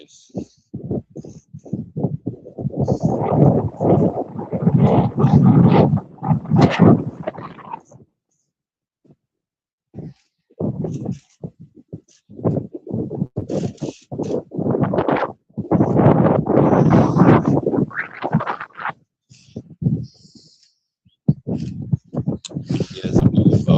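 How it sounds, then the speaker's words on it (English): Outdoor wind buffets a microphone in irregular, loud low-pitched bursts and rumbles, with a few quiet gaps between gusts and no clear talk. "It's a bit windy,"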